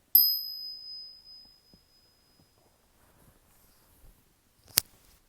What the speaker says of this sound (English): I'm going to ring the little bell.